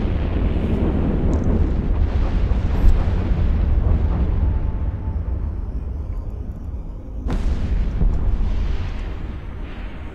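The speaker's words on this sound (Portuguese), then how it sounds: "Ah, agora eu tô atirando" Ship weapons fire during space combat in the EVE Online video game, a dense rumbling barrage of booms and bursts that rolls on continuously, with a sharp crack standing out near the middle.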